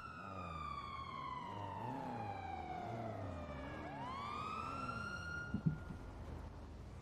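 Police siren wailing during a traffic stop in the NoPixel roleplay game, a rising and falling tone sweeping up and down for several seconds before easing, with a brief knock near the end.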